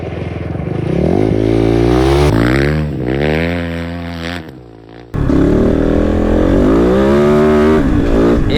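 Kove Dakar rally motorcycle engine revving hard while sliding, loud rising and falling pitch sweeps with a brief dip and cut before roaring back up, close and intense.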